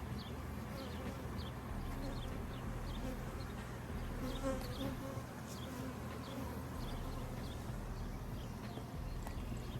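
Honeybees buzz around a group of seven beehives, a soft steady drone outdoors at moderate distance with faint scattered clicks and ticks over low background rumble.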